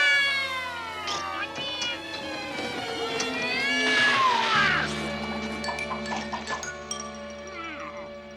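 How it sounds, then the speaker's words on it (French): A cartoon cat meows and caterwauls in a run of wavering, rising and falling yowls, loud and close, with a crash and background music mixed in. "si on ne parfait pas notre condition physique, ce chat finira par attraper des Schtroumpfs"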